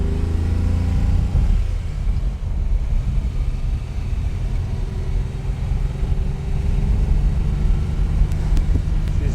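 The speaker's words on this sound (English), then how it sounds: "Show some of the V12 might when we accelerate." A 1967 Ferrari 330 GT 2+2 Series II V12 on a farm road, heard from inside as a loud, steady engine drone that continues throughout with wind and road roar layered over it.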